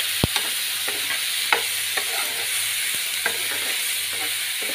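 Tomato and tamarind fry in hot oil in a pan, giving a steady bright sizzle throughout with a few sharp scrapes and taps of a stirring spoon against the pan.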